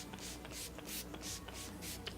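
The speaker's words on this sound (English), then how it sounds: "I'm going to spritz my face" A rose water and glycerin face spray gives a series of soft, close pump spritzes in a steady rhythm, about five short hissing bursts, quiet and with no talking.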